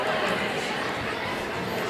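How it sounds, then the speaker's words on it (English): Home crowd at a high school varsity volleyball match, heard as a steady, diffuse murmur of many voices filling the gym, moderately loud and continuous with no single voice standing out. "Here's the home crowd."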